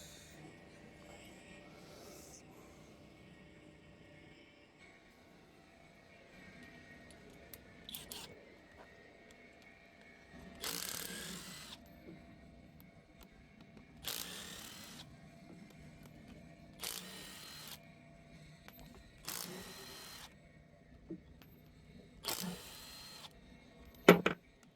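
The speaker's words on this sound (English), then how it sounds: "Let's take off these bolts right here. All of these big bolts." Large bolts being ratcheted off a Tesla rear drive motor, five or six bursts of rapid metallic clicking separated by quiet pauses, close and moderately loud.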